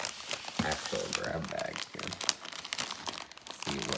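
Plastic packaging of an eBay grab bag crinkles and crunches as it is pulled open, with a steady rustle of fair loudness and a voice speaking over parts of it.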